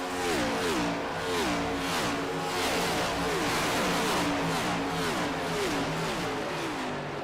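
A race car at Las Vegas Motor Speedway with a blown engine, heard at full speed on track as a loud engine roar that rises and drops in repeated surging pitch sweeps, with no clear single impact standing out.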